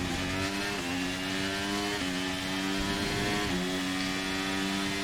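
Formula 1 car engine screaming at high revs on the final lap of the Austria sprint race in the F1 23 video game, a steady loud whine with brief dips at gear shifts.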